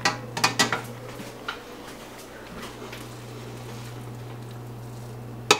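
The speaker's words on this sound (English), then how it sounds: "We're just going to keep mixing it now." Taco meat being stirred in a pan, with a few clinking scrapes of a utensil against the pan early on, then a steady low sizzle and hum underneath.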